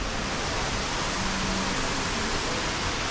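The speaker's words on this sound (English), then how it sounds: "Oh, there's a waterfall over there." A waterfall in a hotel's landscaped grounds beside a small pond gives a steady, dense rush of falling water, unbroken and even for the whole stretch, with no voices over it.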